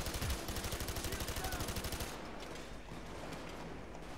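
An LMG fires a rapid, rhythmic burst in the shooter game Payday 2, loud and close for about two seconds before it stops. Fainter game sounds and a low hum follow.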